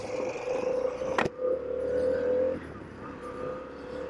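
A Harley-Davidson Pan America Special motorcycle pulling away, a steady engine drone holding then easing off after a sharp click, heard from the rider's position with wind noise.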